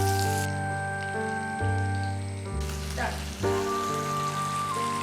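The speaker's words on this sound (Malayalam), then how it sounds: "അപ്പോൾ നമ്മുടെ ഫിഷ് നല്ലോണം ഫ്രൈ ആയി വന്നിട്ടുണ്ട്" Fish frying in a pan, cooked in a rustic, primitive outdoor style for fish nirvana, with a steady close sizzle throughout and a few soft clinks of stirring or handling under a faint background tone.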